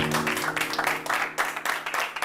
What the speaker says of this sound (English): A round of applause for all of you once again.